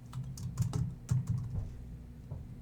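Scattered, fairly quiet keystrokes on a computer keyboard as a name is entered into a database record form, irregular taps with short pauses and no speech.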